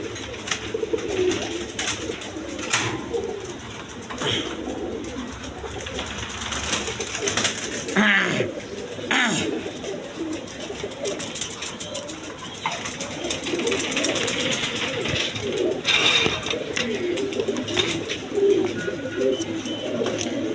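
Imported pigeons coo continuously in a loft, overlapping low coos near and far with rustling and faint mechanical hum.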